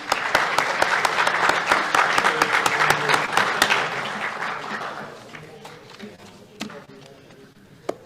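An audience at a sports awards ceremony gives a sustained round of applause that tapers off into scattered claps and quiet near the end.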